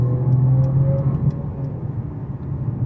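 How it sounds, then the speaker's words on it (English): A 2019 Mercedes CLS450 4Matic with a turbocharged engine and electric motor, all-wheel drive, pulling hard under acceleration: a steady, loud engine drone with a rising tone, heard from inside the cabin with no talking. "Turbo spools nicely, and we have this electric motor."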